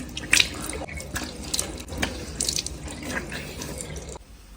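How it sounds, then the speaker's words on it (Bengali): Water running from a tap into a sink while someone washes their face, with irregular splashes and drips, fairly faint and close, no talk, stopping near the end. "আমি কি মুখ ধুচ্ছি"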